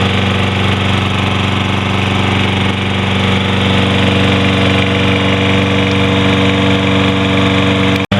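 A Toro Recycler 20331 lawn mower engine, overfilled with oil, runs steadily at a loud, constant idle with a rapid chugging pulse, cutting off abruptly at the very end.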